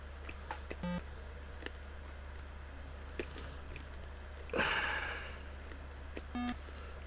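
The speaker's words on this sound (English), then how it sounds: "Beep." Two short electronic beeps from the 1981 Atari 8-bit Solitaire game stand out clearly, one near the start and one near the end, with a brief swishing burst in between over a low steady hum.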